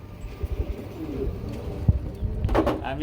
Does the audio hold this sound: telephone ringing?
no